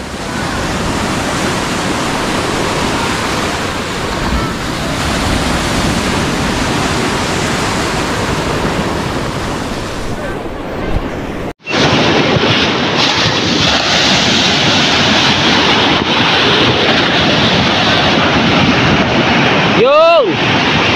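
Ocean waves surge and wash continuously around a small boat at sea, a loud broadband roar with wind buffeting the microphone; a brief dropout near the middle, then the rushing water returns just as strong.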